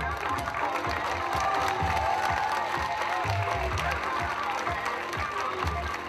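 Audience applause at a school show, a steady wash of many hands clapping with some cheering from the crowd, continuous and fairly close throughout.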